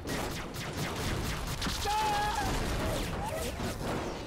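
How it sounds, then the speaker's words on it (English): A rapid barrage of booming explosions and gunfire-like blasts in the video game G.I. Joe: The Rise of Cobra, dense and continuous, with whistling streaks over the top. "Explosions everywhere."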